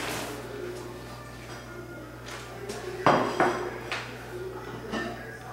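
A crock pot of smoke house beans is set down on a kitchen counter with a sharp ceramic knock and a few clinks of lid and dishes, heard close over a steady room hum.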